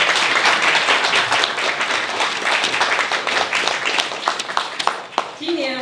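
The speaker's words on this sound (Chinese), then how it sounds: "所以请大家给这些干部掌声鼓励鼓励。" Clapping from an audience at a club gathering, a brisk scatter of hand claps that stays steady for several seconds before tapering into a few isolated claps.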